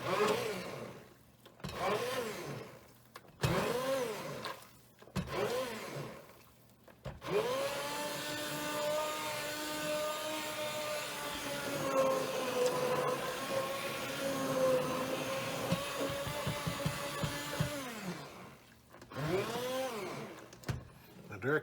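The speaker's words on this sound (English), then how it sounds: "I'm going around and finding any clumps, and then blending them." An immersion blender whirs through clumps in beet soup, several short buzzing bursts followed by a long continuous droning run whose pitch wavers as it works, then more brief pulses, close and loud.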